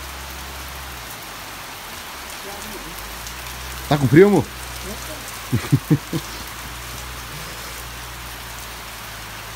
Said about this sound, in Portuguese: Coisa boa é a chuva, né, pessoal?